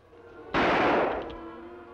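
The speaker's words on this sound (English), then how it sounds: "Shots, Tonto." A single sharp gunshot blast in an old Western radio-style drama, followed by a decaying rumble with no voices over it.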